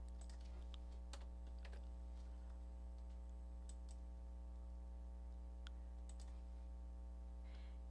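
Computer keyboard keystrokes for copy and paste shortcuts, a few scattered light clicks spaced apart over a steady electrical hum, quiet and close, no voices.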